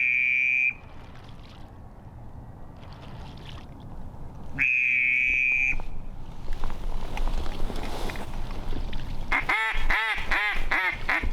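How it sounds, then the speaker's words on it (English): Ducks quack in short, bright bursts during a duck hunt at a creek, with a few loud calls near the start and a rapid run of quacking at the end over a rustling, windy background. "There's 3 more ducks."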